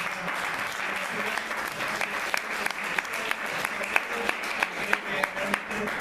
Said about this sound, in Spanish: pediros un gran aplauso para todas las compañeras